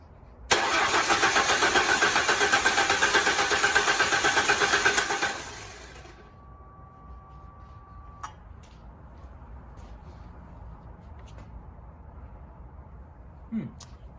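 A 1999–2004 New Edge Ford Mustang engine cranks during a compression test, a loud rhythmic starter churn for about five seconds that cuts off abruptly, followed by quiet with a few faint clicks.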